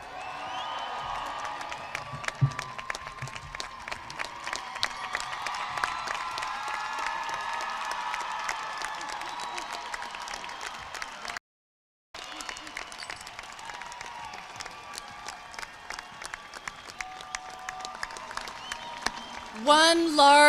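An audience at a bachelor's degree ceremony gives sustained applause for graduates, a dense, even patter of clapping from a large crowd. After a brief dropout the clapping continues, with a voice coming in at the close.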